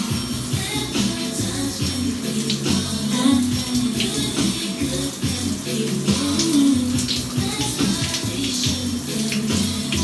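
Water is sprayed or run onto wet, tightly coily hair during styling, a steady rushing splash that carries on throughout, loud and close, with no talk.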